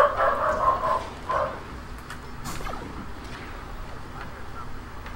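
A dog gives a few short barks close by at the start, with noisy game-like background continuing afterward.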